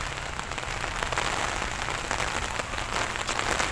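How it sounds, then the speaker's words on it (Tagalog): Heavy rain pours steadily in a Madrid botanical garden, a dense continuous hiss of drops hitting surfaces close by, loud and unbroken with no voices. "papalakas ng papalakas ang ulan"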